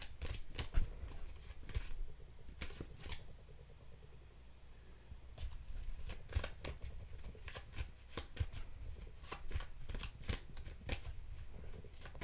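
Tarot cards shuffled by hand in steady bursts of crisp riffling flicks, close and fairly quiet, repeating over several seconds with no talk.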